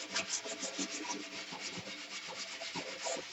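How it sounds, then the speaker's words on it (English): A chipped porcelain bathtub being sanded, with steady, continuous abrasive rubbing strokes in a fast back-and-forth rhythm, close and moderately loud, with no talking. "We'll sand this off"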